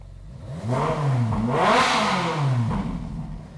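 A naturally aspirated Ferrari engine revs up close and loud, climbing in pitch through a couple of quick throttle blips before dropping back.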